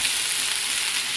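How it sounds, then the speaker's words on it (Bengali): Onion sizzles and crackles in hot oil in a pan, a brief, steady, close frying hiss as it is stirred. "পেঁয়াজটা একটু নাড়াচাড়া করে নিই পেঁয়াজটা একটু ভাজা ভাজা হয়ে গেছে"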